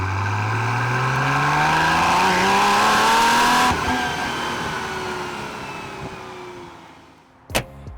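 A Porsche 911 993 Turbo engine revs loudly and close, climbing in pitch, shifting gear midway, then easing off as it pulls away.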